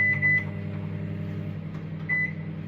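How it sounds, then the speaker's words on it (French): A microwave oven hums steadily while cooking a chocolate mug cake, a constant low drone with two short electronic beeps, one at the start and one near the end. "Tu mets 1 minute 30 au micro-ondes."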